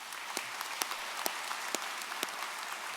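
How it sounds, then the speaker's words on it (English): An audience at a Florida Atlantic University commencement applauds the Army ROTC presentation of colors, a dense, steady wash of clapping from a large crowd with a few sharper individual claps standing out. "join me in giving a round of applause to the Florida Atlantic University Army ROTC for the presentation of colors"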